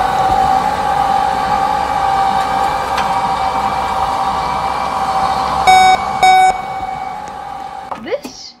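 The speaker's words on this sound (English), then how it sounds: "This is my fire alarm collection." A fire alarm sounding inside a Roblox game, a steady loud electronic tone holding throughout with a few brief beeps near the end, no voices over it.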